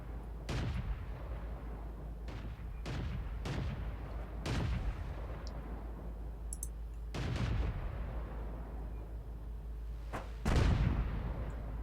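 Artillery fire in World of Tanks: a series of sharp, heavy booms spaced a second or two apart, about eight shots in all, with the last one loudest, over a steady low rumble of battlefield ambience.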